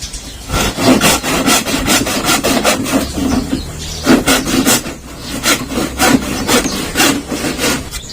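A dull hand saw rasps through wood in steady back-and-forth strokes, loud and close, with brief pauses between bursts of cutting, while making a traditional boat sail.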